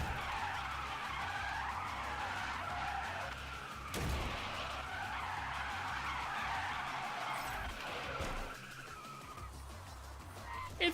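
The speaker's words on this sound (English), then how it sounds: "It's just tire squealing." Tires squeal and skid in the Dirt 5 racing game, a continuous loud screech over engine noise that runs nearly unbroken for about eleven seconds, with a sharp burst near the middle.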